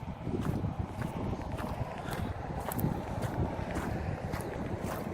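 Outdoor breeze on a June hike toward a river, a steady close rumble of wind against the microphone, with faint rhythmic thuds underneath and no talk.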